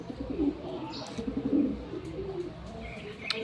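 Soft, low pigeon coos repeat close by, with a few faint chirps and a steady background hum.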